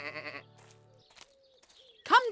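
A cartoon sheep on a farm in the animated series Tractor Tom lets out a loud, wavering bleat at the start, followed by a stretch of quiet, with a louder voice breaking in at the end.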